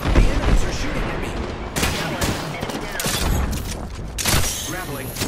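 Enemy gunfire crackles through a shooter video game, with dense bursts of rapid shots and booms coming in loud, overlapping volleys.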